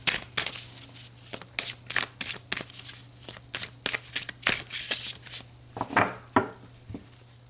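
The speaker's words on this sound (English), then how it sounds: "So let's pull another card." Tarot cards are shuffled and drawn by hand, a rapid series of crisp riffling slaps and flicks in uneven bursts, close and fairly loud, over a faint steady hum with no talking.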